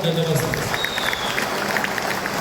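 Loud applause from an audience at a felicitation ceremony honouring achievers, a steady dense patter of clapping held at one level for the whole stretch, with murmuring voices blended underneath.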